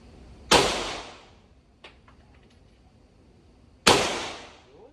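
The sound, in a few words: gunshots at a firing range, shotgun and pistol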